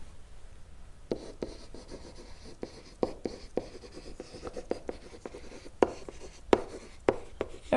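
A pen writes out a geometry proof on paper, producing close, scratchy strokes in short irregular bursts with small taps between them, quiet and steady throughout, without speech.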